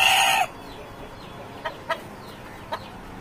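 A Cochin bantam chicken at an ornamental poultry show gives a short, loud crowing burst up close, then falls to a few faint, scattered clucks against quiet background noise.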